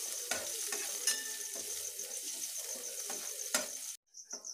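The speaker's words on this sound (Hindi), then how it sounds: "तो लहसुन को हम अच्छे से भून लेते हैं पहले" Garlic, mustard seeds and fenugreek fry in a pan with a steady close sizzle, punctuated by sharp spatula scrapes and stirs, before the sizzle briefly drops out near the end.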